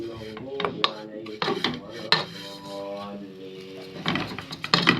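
A spoon scrapes and clinks against a metal pan while kunafa vermicelli is stirred with ghee, giving irregular clattering bursts with short pauses between them.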